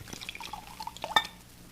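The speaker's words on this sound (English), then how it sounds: "Here, let me pour you both some wine." Wine poured from a decanter into glasses in a radio drama, heard as soft liquid trickles and drips ending in a bright clink of glass; quiet and close, with no voices over it.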